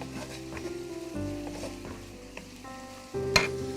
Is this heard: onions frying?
yes